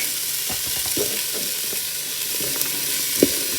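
Flour being stirred into celery and other vegetables inside a Ninja Foodi for gumbo, making a soft continuous sizzle with a few scraping utensil knocks and stirring taps.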